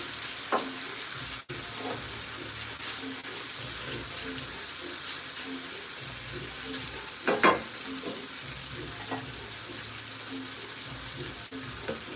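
Drunken noodles stir-fry in a pan with a steady, close sizzle throughout. Occasional scraping and clanking from the stirring rise above it.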